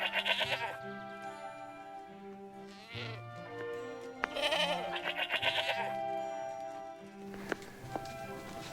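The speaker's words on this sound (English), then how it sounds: "Luckily, these goats don't eat humans." Goats bleat repeatedly on a rural mountain trail in Anaga Rural Park, several loud, close, wavering cries overlapping one another, with a few small knocks between them.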